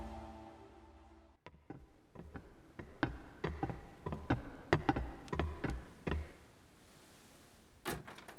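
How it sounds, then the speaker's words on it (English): A front door opens inside a house, with a run of sharp clicks and knocks from the latch and handle followed by a final thud, close and alone. "Front door opening."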